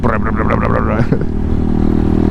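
Honda Hawk 250 motorcycle engine revving loudly up close, a quick burst of rising throttle that settles into a rough, steady idle-like rumble.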